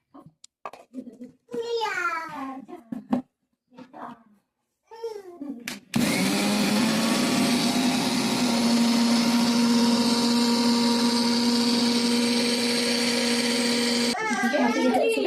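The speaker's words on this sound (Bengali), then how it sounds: "সুজিটা মিক্সারে রেখে ঢালা হয়েছে, এটা গুঁড়ো করা হবে।" A mixer grinder grinds roasted semolina into powder, a loud steady motor whine that starts abruptly and runs for about eight seconds before cutting off, preceded and followed by close speech including a voice.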